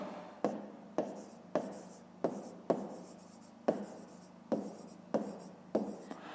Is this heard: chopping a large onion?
no